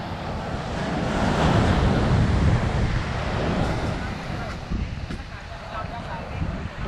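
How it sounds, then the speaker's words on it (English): Surf and wind at Canggu Beach, Bali, make a constant loud wash of breaking waves with gusty wind rumbling against the microphone and no clear pauses. "Alright, so that's Canggu Beach."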